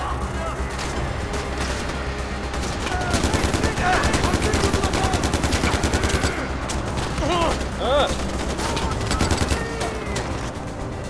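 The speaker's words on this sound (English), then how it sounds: "Who's shooting at me?" Dense, sustained automatic gunfire in the video game Far Cry 4, many rapid shots overlapping into a continuous loud barrage, with shouting voices breaking through the firefight.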